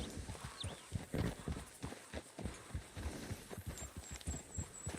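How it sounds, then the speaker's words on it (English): A horse walking in Red Dead Redemption 2, with hooves thudding in a steady uneven clip-clop close by over a dense rustling ambient bed. "that horse is just continuing to walk"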